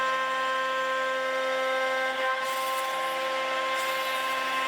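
A CNC machine mills a wooden log for a dining table, giving a steady, continuous high-pitched whine with a ringing tonal edge that holds throughout.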